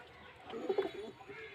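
A pigeon at a pigeon sale gives a brief, soft, low coo, heard faintly and close, over quiet background noise.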